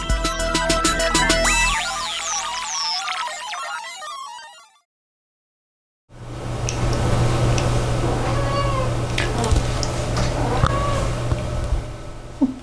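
A pet cat named Rosie meowing in a domestic room, several short faint meows and chirps over a low steady hum, following a burst of electronic tones and a brief silence.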